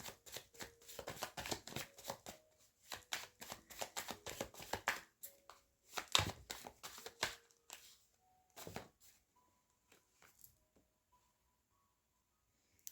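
Tarot cards shuffled and drawn by hand, with dense riffling and slapping bursts for about seven seconds, then a few sparse, quieter card flicks and placements, close and without talk.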